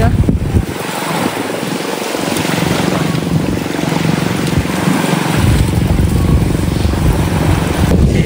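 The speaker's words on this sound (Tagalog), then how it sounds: "Nilulusong na po nila yung bangka diyan po sa tubig." A wooden fishing bangka used for squid fishing is pushed into the sea. Waves and wind make a continuous rushing roar with a motor-like drone, and voices can be heard faintly in the background.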